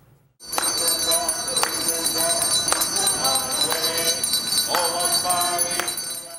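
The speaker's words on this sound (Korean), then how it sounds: "겨울철 나눔의 상징이 된 구세군 자선냄비의 종소리" A Salvation Army charity kettle hand bell rings on a street in a winter fundraising drive, giving repeated bright metallic strikes in an uneven rhythm, loud and close over a continuous outdoor background.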